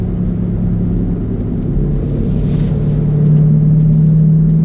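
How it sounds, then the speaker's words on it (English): Deep, steady rumble of a 2018 Jeep Grand Cherokee Trackhawk's Hemi V8 through stock exhaust, idling nearby, its low tone holding then rising slightly toward the end, with no talking. "so you get to hear what the Hemi sounds like"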